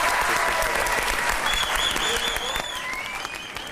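Studio audience at a television talk show applauds loudly for a guest, a dense sustained burst with a few cheers and whistles, easing slightly toward the end.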